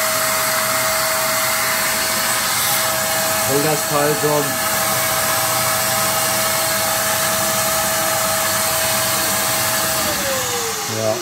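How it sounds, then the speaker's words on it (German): Vacuum cleaner running steadily as suction holding a model railway part in place for milling, a loud continuous whine throughout with a brief voice speaking partway through. "Einfach Staubsauger an."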